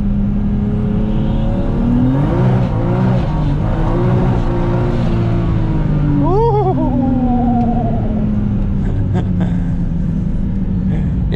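Toyota JZX100 Mark II drift car engine revving hard on track at Nikko Circuit, a steady loud drone that climbs and swoops in pitch with rising and falling revs, rough and close throughout.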